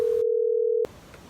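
A telephone dial tone rings out as a flat steady hum for under a second before cutting off abruptly, leaving faint background noise.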